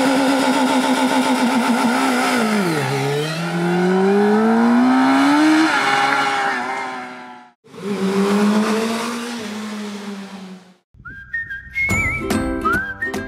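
Suzuki Hayabusa motorcycle engine revs hard and loud, climbing in pitch to high RPM in two long sweeping pulls with a short gap between, then cutting off into brief whirring and whistling.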